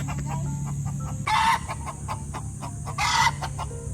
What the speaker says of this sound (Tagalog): Manghuhuli ng manok si Nalyn.